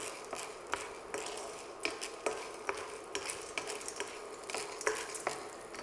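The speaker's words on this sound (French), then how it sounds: "Je vais venir les remuer pour les enrober un peu avec la graisse qu'il y a dans la casserole." Corn kernels are stirred in a hot greased pan for popcorn, giving a run of sharp scraping clicks in an uneven rhythm over a faint sizzle, close and clear with no voices.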